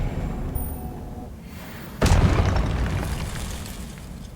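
A spell is cast in the Hogwarts Legacy video game: after a low rumbling bed, a sudden loud booming burst hits about halfway through and trails off into a long rumbling tail.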